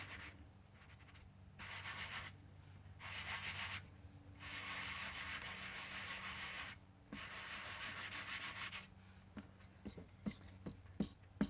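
Repeated soft rubbing strokes as Simon Hurley ink is worked onto stamp foam, faint back-and-forth swishes in bursts, ending with a few light taps.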